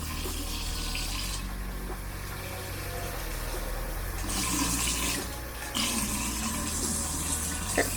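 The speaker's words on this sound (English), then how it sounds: "So I put cold water in there." Cold water runs from a tap into a smoothie maker in a steady stream, with the gush growing fuller and louder partway through as the flow changes.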